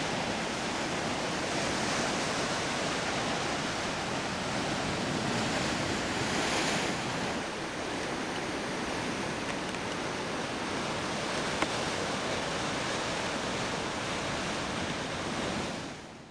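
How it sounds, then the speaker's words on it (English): Ocean surf rolling onto the rocky west coast shore near Sooke, a steady dense wash of breaking waves with some wind, even and fairly close, with no voices. "You get the sound of that flowing surf around here."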